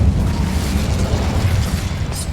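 Incendio fire spell cast in Hogwarts Legacy, a loud sustained roaring burst of flame with rumbling low-end whoosh, filling the moment without talk.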